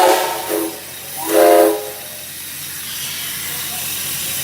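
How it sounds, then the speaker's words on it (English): Norfolk & Western steam whistles blow outdoors at a Kentucky steam whistle event, giving two loud, tonal blasts with hissing steam. A low, continuous hiss and whistle chorus follows, and a voice can be heard faintly. "When the N&W stop whistle is blown, notice how the steam from every other whistle starts going straight up"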